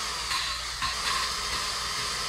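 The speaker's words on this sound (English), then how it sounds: "I go forward and I go into reverse on my drill" A hand drill spins back and forth lapping a valve against its seat in a Honda CB350 engine, a gritty whirring grind that pauses and restarts with each change of direction.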